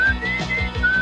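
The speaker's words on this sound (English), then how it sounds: "I like how he just whistles." A cartoon character whistles a short, clear tune of a few wavering notes, up close and alone.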